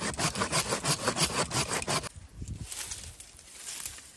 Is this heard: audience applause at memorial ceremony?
no